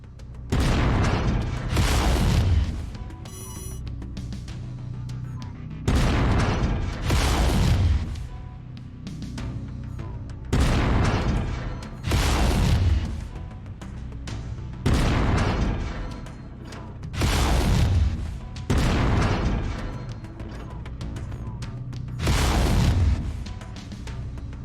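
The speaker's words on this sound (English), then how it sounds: "Go ahead and try shooting the cockpit." Heavy mech weapons fire at an enemy mech's cockpit in MechWarrior 5: Mercenaries, coming as repeated loud booming volleys, about every three seconds, each one a broad blast with a rumbling tail and no voices.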